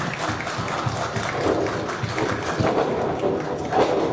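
A wrestling crowd at an MXW pro show in Horsham cheers for Xavier Carter, producing a steady, dense roar of applause and shouting that rises in bursts and carries on without pause.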